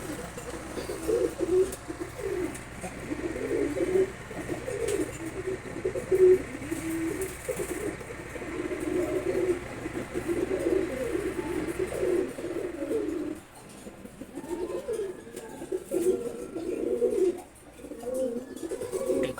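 Two pigeons coo close by, repeated low rolling coos in bursts with short pauses, and the calls carry clearly over quiet surroundings.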